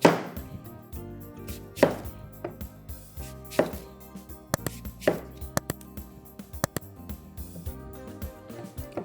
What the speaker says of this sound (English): So first we cut the apples,